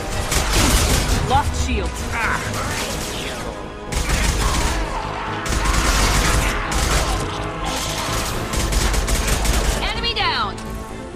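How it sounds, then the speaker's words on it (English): Impact shot gunfire in Mass Effect 2 crackles in dense, loud bursts of rapid shots and mechanical clatter, with brief pauses between volleys and a voice speaking over the combat. "Firing an impact shot!"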